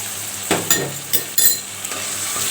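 Prawns fry with ginger paste in a pan, a close, steady sizzle broken by a few metallic scrapes and clinks of the spatula against the pan.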